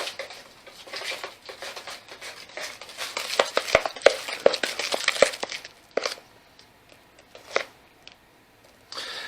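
Peanut butter brownie cookie dough with almond flour being stirred in a bowl, giving irregular close scraping and thumping strokes with sharp clicks of the utensil against the bowl, busy at first, then sparser with pauses.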